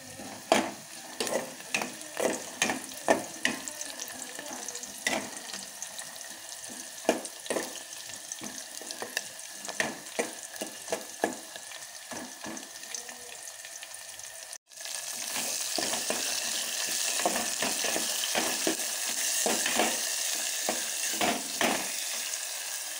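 Spices crackle and pop in hot oil for tempering, the sizzling steady and close with frequent sharp spatters, swelling to a denser hiss partway through.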